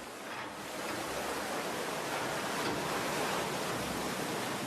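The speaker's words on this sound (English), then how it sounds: "Once enough water is dammed, the weir is opened." A steady, loud roar of water rushing through an opened weir on a mill dam fills the clip, broadband and continuous, with no voices and no pauses.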